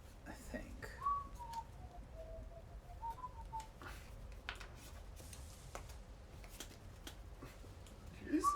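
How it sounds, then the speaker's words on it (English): A person at a board game table whistles a few short, thin melodic notes, faint and intermittent amid shuffling cards, clattering pieces and background voices. "Are you whistling?"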